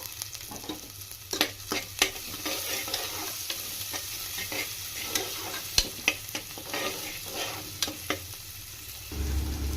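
Chopped onions and two thinly sliced green chillies fry in a pan for dal fry, a steady sizzle broken by sharp, irregular clacks of a spoon stirring against the pan, with a low hum behind.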